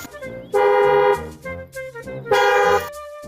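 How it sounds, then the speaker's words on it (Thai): Two long blasts of a car horn sound close and loud, separated by a short pause, with quieter engine rumble between them. "เราต้องบีบแตรรถ"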